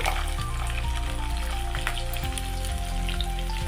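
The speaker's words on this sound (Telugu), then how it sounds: "పచ్చిమిర్చి, కరివేపాకు వేసుకొని బాగా కలపాలి." Onions, green chillies and curry leaves fry in oil in a pan for a lentil and drumstick stew, giving a steady, close, continuous sizzle with crackling over a low hum and no voices.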